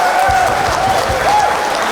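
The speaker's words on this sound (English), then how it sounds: "the crowd's after erupting there after that magnificent shot there by Paul Brady" At an All-Ireland men's 40x20 handball doubles final, a crowd bursts into loud, sustained applause after a shot by Paul Brady, dense clapping and cheering filling the space, with a whistle-like tone riding on top.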